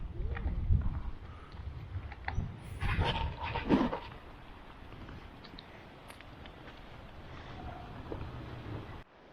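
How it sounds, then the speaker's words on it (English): Wind gusting across the microphone beside Loch Tay in the Scottish Highlands, a broad low rumble that swells loudest in the first four seconds and then settles into a steadier, softer buffeting with no voices. "Got a bit breezy here, hasn't it?"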